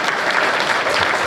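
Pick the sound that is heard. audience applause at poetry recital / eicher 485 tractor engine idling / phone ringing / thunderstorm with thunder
audience applause at poetry recital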